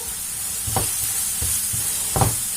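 Harissa or chili-paste sauce simmers in a pan, a steady soft sizzle and hiss broken by a few brief stirring scrapes, close and fairly quiet, with no voices.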